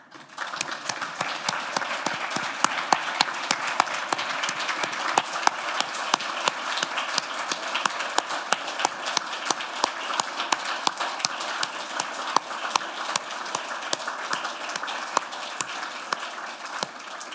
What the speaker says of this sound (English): just to stand up and take a round of applause